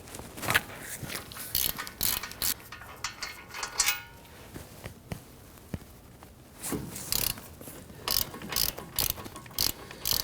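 Ratchet loosening an 18mm caliper bracket bolt on a 2009-2017 Volvo XC60, with bursts of close, loud clicking strokes, a quieter pause with a few metallic knocks, then another run of rhythmic ratcheting.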